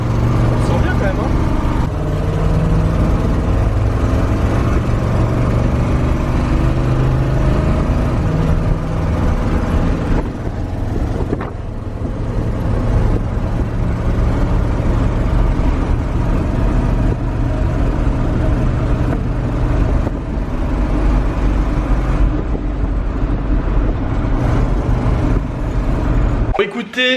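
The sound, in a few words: 1978 Chevrolet Cheyenne pickup driving off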